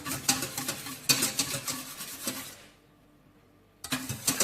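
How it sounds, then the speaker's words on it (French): A whisk scrapes and clicks against a saucepan of thickening lemon tart cream in quick repeated strokes, pausing for about a second before resuming. "j'ai pris mon fouet pour éviter que votre crème ne colle dans le fond de votre casserole"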